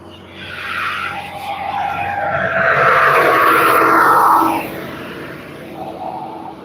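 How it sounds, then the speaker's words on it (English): A loud tractor passes along a road nearby, its roar swelling to a peak mid-pass and then fading, heard alone without talk. "there's been a very loud tractor go by"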